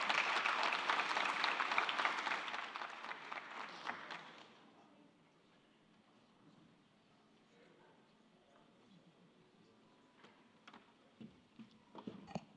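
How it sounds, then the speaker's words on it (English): Conference audience applause rings out for about four seconds and then fades, leaving a quiet room with scattered faint clicks, taps and small movements. "Another round of applause for for Carla."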